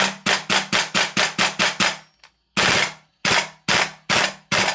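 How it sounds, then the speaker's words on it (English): A Guns Modify SCAR L MK2 gas blowback airsoft rifle fires full auto in rapid, sharp, evenly spaced bursts, a string of about eight shots, a brief pause, then five more, loud and close. "So it's rapid on full auto, which is why you're seeing a bit of spit of gas there."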